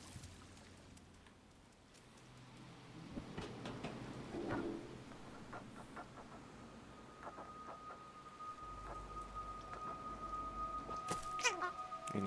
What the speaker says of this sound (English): Our cat makes such a sad sound whenever it jumps a little too far.